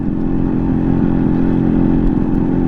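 A renewed Yamaha RX 100 two-stroke motorcycle engine runs close by, a loud, continuous throbbing rumble with a rattly edge that holds steady throughout.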